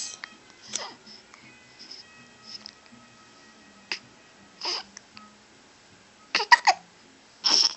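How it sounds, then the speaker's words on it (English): Short hiccups come at irregular intervals, a few small sharp catches spaced across quiet stretches with soft sounds between them, close and moderately loud. "I hate hiccups."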